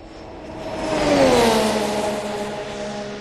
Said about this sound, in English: We'll get out of the way of this car so we don't get run over.